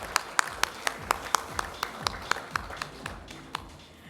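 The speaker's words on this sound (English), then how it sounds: "a round of applause for Mohammad Khalid." Audience members at a staff award ceremony clap for an absent winner in sparse, fairly regular, distinct hand claps that gradually thin and soften over about four seconds.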